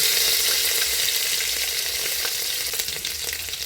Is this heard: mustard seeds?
yes